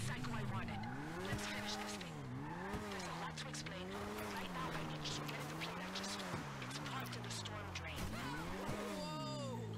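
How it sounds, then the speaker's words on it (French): A motorcycle engine in the GTA Online Drug Wars game revs loudly and without a break, its pitch climbing and dropping again and again as the bike speeds up and slows down. "On va reprendre notre petite moto."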